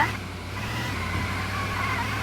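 A red car's engine in the video game Sakura Simulator runs at a steady, low idle-like drone, close and continuous with no voices.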